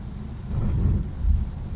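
Heavy rain pours down steadily on an open road, a dense, close rumbling wash with no voices heard.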